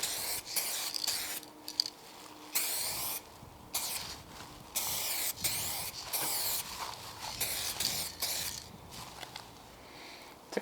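Repeated bursts of aerosol spray as a heavy coat goes onto a restored headlight from a 540i BMW E39, each hiss a second or so long with short pauses between, close and fairly loud with no talking.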